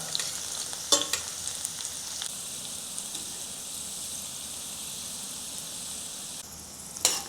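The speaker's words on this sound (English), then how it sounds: "Add sufficient oil to the pan to fry the potatoes." Potatoes frying in oil in a pan for a Cantonese potato and minced pork stir fry, a steady hiss of sizzling oil throughout with a few soft clicks and crackles near the start and end.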